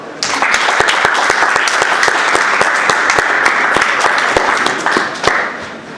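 An audience gives a round of applause at an art recognition event, dense continuous clapping from many hands that swells quickly and tapers off after about five seconds.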